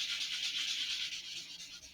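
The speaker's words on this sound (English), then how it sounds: "So I'm going to break out my sanding block and I'm just going to sand" Sanding block rubbed back and forth over a rough glue seam on an Estes Great Goblin model rocket, a steady close-up scratchy rasp with a quick repeating stroke rhythm and no talking.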